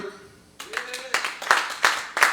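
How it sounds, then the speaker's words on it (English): A comedy club audience claps in a few sparse, separate bursts that follow a brief voice and gain a little strength toward the end. "And nice round of applause."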